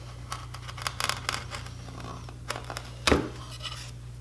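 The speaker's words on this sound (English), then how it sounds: "I'm gonna clean up the glue on the edges" A freshly sharpened chisel scraping squeezed-out glue from the edges of a wooden box: short, dry scratching strokes at close range, scattered irregularly over a low steady hum.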